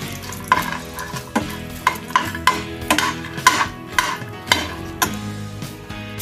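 Whole spices roast in a little oil in a pan, a soft sizzle broken by regular clinks and scrapes of stirring against the metal, close and fairly loud, with no talk.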